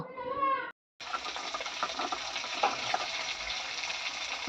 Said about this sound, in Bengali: এদিকে দিয়ে দিয়েছি করলাটা ভাজতে